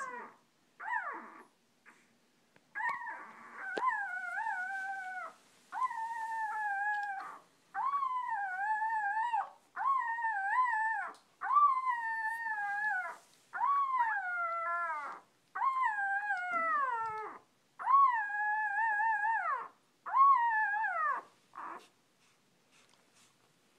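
Six-day-old puppies let out a long series of high, wavering howls and whimpers in repeated bursts with short pauses, close by and fairly loud.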